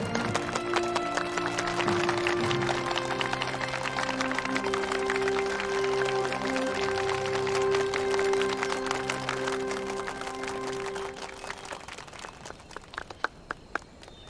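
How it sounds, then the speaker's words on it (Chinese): Sustained applause from a room of assembled comrades at a meeting, a dense, even clapping that holds for about twelve seconds under a low sustained tone, then thins out into a few scattered claps. "我提议同志们再为李化成同志鼓鼓掌。"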